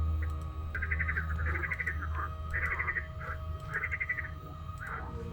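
Frogs in a video game croak in repeated, evenly spaced bursts of rapid rattling calls over a steady low ambient hum, moderately loud and without talk.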